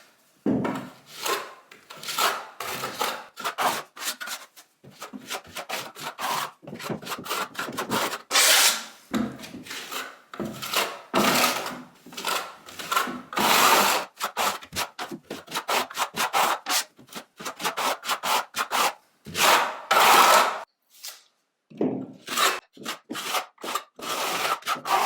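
Bonding plaster is pushed and smoothed into a wall chase with a trowel, giving repeated gritty scraping strokes in an uneven rhythm with short pauses, close and moderately loud.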